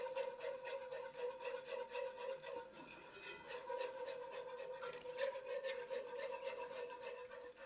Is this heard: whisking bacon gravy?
yes